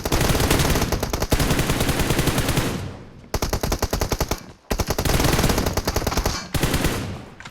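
Rapid automatic gunfire in the mobile shooter PUBG Mobile, played on an iPhone SE 2020, comes in loud sustained bursts separated by brief gaps, close and dominant throughout.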